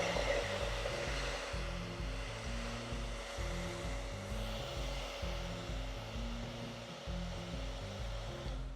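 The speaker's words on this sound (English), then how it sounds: "you just need a blow dryer and a little bit of hairspray" A blow dryer heating a hairspray-coated cosplay wig, a steady close whooshing roar with a low motor hum, swelling and dipping rhythmically as the airflow moves across the hair.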